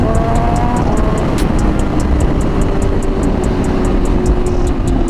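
A Suzuki Hayabusa motorcycle with a Brox exhaust roars loudly and steadily at an underground car meet, a dense, unbroken engine drone close by for several seconds.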